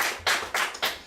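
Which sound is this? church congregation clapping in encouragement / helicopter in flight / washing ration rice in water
church congregation clapping in encouragement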